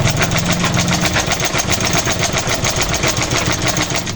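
A sewing machine stitches through eight stacked layers of cloth, a loud, steady, fast mechanical chatter with a close rhythmic needle beat running throughout without pause.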